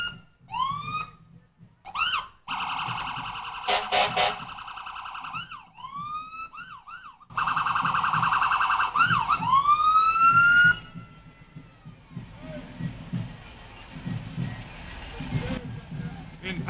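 City fire truck sirens wail and whoop loudly at a 2012 community day parade in Sault Ste. Marie, Ontario, sweeping up and down in repeated bursts, with electronic yelps and a voice talking faintly underneath.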